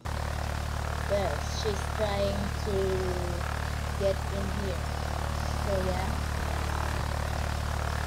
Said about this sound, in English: he spawned his airplane and it's called Archer